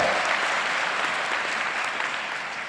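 An audience at a diploma ceremony applauds the mayor, giving a dense, steady wash of clapping that holds at an even level throughout before easing slightly at the end.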